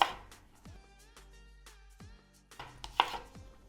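Green onion being chopped with a knife on a board: a run of crisp, close knocks in an uneven rhythm, with a ringing tonal hum behind them and no talking.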